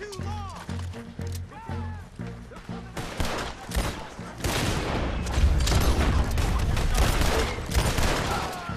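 Pistol gunfire in Red Dead Redemption 2 during a river chase, rapid bursts of sharp shots that grow denser and louder, overlapping with booms, hoofbeats and a voice talking over the action.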